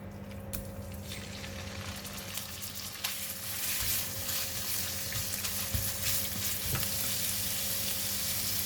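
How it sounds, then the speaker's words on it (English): Meat sizzles in garlic oil in a hot pan, a steady close frying crackle with occasional stirring scrapes that swell slightly louder partway through. "we're going to fry the meat now"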